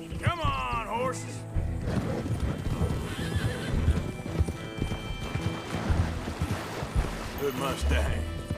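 Horses in the Red Dead Redemption 2 video game gallop with steady clip-clop hoofbeats and loud whinnies, set against a continuous game soundtrack with voices talking over it.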